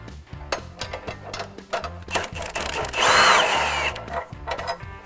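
A power drill bores holes for bumper brackets during a Go Rhino BR10 bumper installation on a 2016 Ram, with short repeated whirring bursts and one louder, longer grinding run in the middle, up close.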